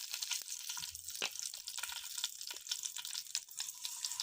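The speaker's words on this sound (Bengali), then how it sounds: "অল্প তেলে ভেজে নেব গোটা জিরা" Whole cumin and green chillies frying in a little oil, a faint, steady high sizzle with small crackles and pops, heard alone and close.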